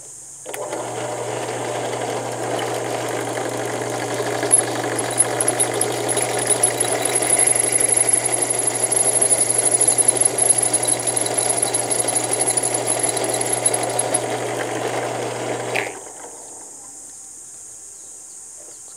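Drill with a bit boring into hard steel, a steady loud whining grind held for about fifteen seconds with slight fluctuations, then stopping abruptly into near silence.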